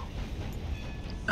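A steam-era train rolling along in Red Dead Redemption 2, a faint, steady low rumble of the cars on the rails, with a brief sharper sound at the very end and no voices.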